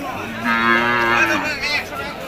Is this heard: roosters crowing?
no